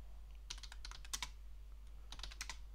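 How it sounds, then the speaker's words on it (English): Computer keyboard typing a command, two quick bursts of soft close key clicks separated by a short pause, alone over a low steady hum. "And now we type sudo apt purge"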